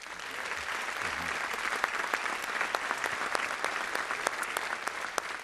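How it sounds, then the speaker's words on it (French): A crowd at the Hello 2017 show applauds a choir specially assembled for the event, a loud, dense, continuous wash of clapping with sharp individual claps standing out throughout. "Je crois qu'on peut encore les applaudir."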